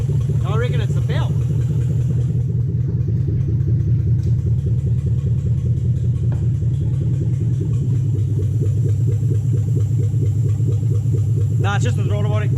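A Toyota Hilux Vigo 4x4 fitted with a swapped 3UZ V8 runs with a steady, rough, dirty-sounding engine drone and throttle-body noise, loud and close throughout, with brief voices at the start and end.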